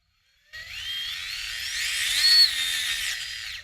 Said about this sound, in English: you can hear The all plastic gears inside that stock box, they don't like this